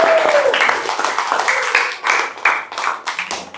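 A classroom of students claps together, a steady patter of many hands mixed with a few voices, fairly close and lively.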